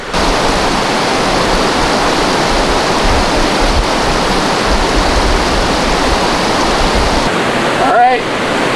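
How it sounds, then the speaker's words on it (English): Mountain creek water rushing steadily at South Fork in the San Gorgonio Wilderness, a loud, continuous broadband roar filling the whole clip, with a brief splash or disturbance near the end. "just want to cross the second part of the creek here at South Fork"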